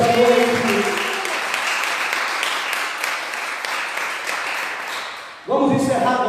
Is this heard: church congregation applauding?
yes